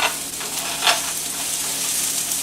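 Thinly cut shallots frying in a skillet hiss with a dense, even sizzle close by, swelling briefly with a sharper crackle midway, no voices over it.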